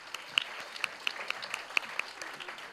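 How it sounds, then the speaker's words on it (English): Scattered clapping from an audience at a children's performance event in Chennai, with sparse distinct claps ringing out over a faint, steady crowd wash. "A big round of applause."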